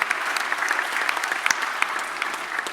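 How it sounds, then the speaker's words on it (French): Audience applause at a hospital pharmacists' conference, a dense steady patter of many hands clapping close by, continuous for a few seconds with no talk over it. "Je voudrais que l'on remercie et que vous applaudissiez aussi très fort Philippe pour cette animation."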